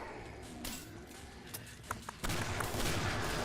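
A husk cannon fires in the Killing Floor video game, with several sharp blasts and cracks scattered through the clip, building to a louder, sustained burst of fire at the end.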